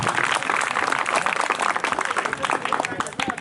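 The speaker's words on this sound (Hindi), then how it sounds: "सेकुलरिज्म से संबंधित 25 से 28 बच्चों के लिए जोरदार ताली।" Loud, dense applause from a classroom of students cheering quiz participants, steady clapping filling the whole stretch with some voices mixed in.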